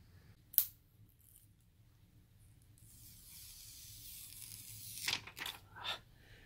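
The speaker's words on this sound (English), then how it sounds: "take the plastic out." Protective plastic film peeled off a new Xiaomi Redmi 6 Pro phone: a sharp crackle, then a soft rising hiss and a few quick tearing rips, all faint and close in an otherwise quiet room.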